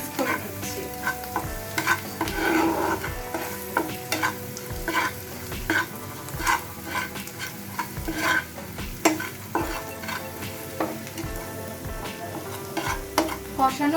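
A spoon stirs katla fish kofta curry mix in a hot pan with oil sizzling steadily beneath. Irregular scraping strokes and clinks sound close by over soft background music.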